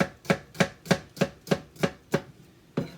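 A knife chopping shallots on a board, eight crisp, evenly spaced close thuds in a steady rhythm with a slight pause before the last, no voices.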